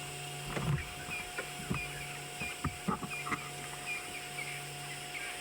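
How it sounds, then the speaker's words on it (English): Short barking yelps of a zebra alarm call repeat at irregular intervals on a sunset safari, fairly distant, over a steady mechanical hum. "Can you hear the zebra alarming?"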